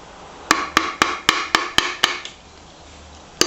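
Eight quick metallic taps in a steady rhythm, then a pause and one more tap, on a part of a 1973 Briggs and Stratton 3hp engine being knocked loose off its locating pins; close and crisp with ringing decay.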